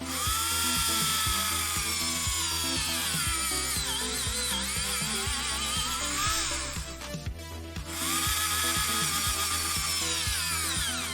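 A small power drill, used while building a model kit, whines close by, its pitch wavering under load, stopping briefly in the middle before starting up again.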